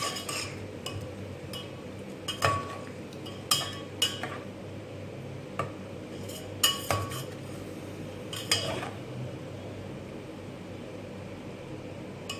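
Beef korma being stirred in a pot with a metal spoon after turmeric, crushed red chilli and salt go in: scattered sharp clinks and scrapes against the pot, spaced irregularly over a low steady background, no voices.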